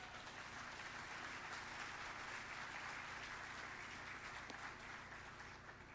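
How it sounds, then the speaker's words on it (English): Steady applause from a crowd at an education celebration event, a dense, even patter of many hands clapping throughout, quiet and somewhat distant with no talking over it. "Let's give it a round of applause."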